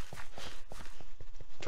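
Horse hooves walking in Pixelmon, a Minecraft mod: a soft, even series of clopping steps at a steady walking pace, fairly close, with faint background noise.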